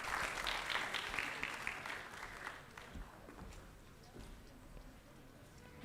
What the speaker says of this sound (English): Another hand of applause to the EU ambassador